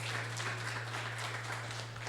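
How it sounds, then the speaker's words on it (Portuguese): Church congregation applauding during a worship service, a steady wash of clapping across the whole stretch with a constant low hum beneath, no distinct talk. "Você pode aplaudir ao Senhor?"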